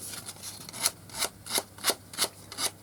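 A wooden cane is sanded and shaped by hand in regular back-and-forth strokes, about three per second, each a soft scratchy rasp at close range.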